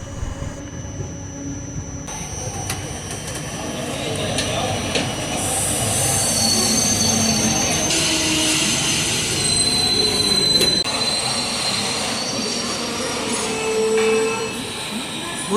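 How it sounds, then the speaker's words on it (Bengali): A passenger train, the Ranikhet Express, pulls into Lalkuan Junction. Its wheels squeal in high, drawn-out screeches over a steady rumble of rolling coaches that stays loud close by throughout. "ট্রেন কিন্তু আমাদের এসে পৌঁছালো লালকুয়ান জংশনে"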